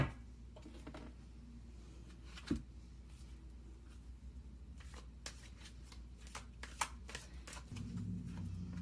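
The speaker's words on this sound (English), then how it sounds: "I'll pick 3 cards from the angel answers." Angel answer oracle cards are shuffled and picked by hand, a steady soft riffling rustle with a few sharper card snaps and taps over a low background hum, close and fairly quiet.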